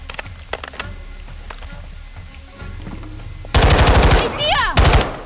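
Gunfire in Call of Duty: Modern Warfare II, scattered single shots early on, then loud rapid bursts of automatic fire near the end, with a short pause between bursts.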